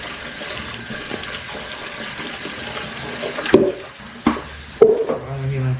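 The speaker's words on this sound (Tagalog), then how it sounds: "Mahina yung tubig na yan." A weak stream of tap water runs steadily from a faucet in a home, a soft continuous hiss broken near the end by a few louder splashes and knocks, with no talking.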